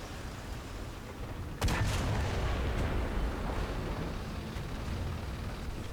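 The main gun of a Brummbar tank destroyer in War Thunder fires once, a sudden booming blast that rolls into a long rumbling decay over a steady engine drone.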